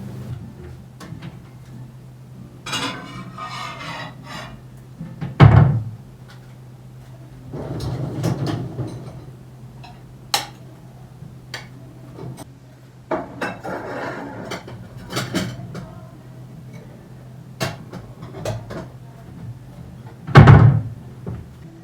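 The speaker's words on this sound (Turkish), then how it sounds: "şu bulaşıkları bir toplayalım da" Clinks and knocks of dishes being gathered and set down, with occasional sharper clatters and cupboard-like thuds spread out over a quiet room.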